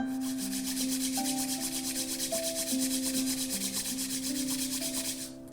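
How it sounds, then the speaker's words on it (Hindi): Palms of both hands rubbed together hard during a meditation, a fast, continuous rhythmic swishing close up over soft sustained background music, fading out at the end. "दोनों हाथ जोड़ लो और जोर से रब करो"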